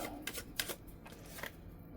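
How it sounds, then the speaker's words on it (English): Tarot cards being shuffled, a quick run of soft papery riffles and flicks close by, faint and alone for about two seconds. "The cards just told me to shuffle."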